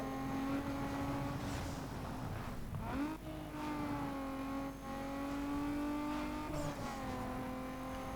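Racing engine from the driving game Need For Speed Underground 2, a loud continuous roar with steady tones that dip and climb again as the car shifts gears and revs, close and unbroken.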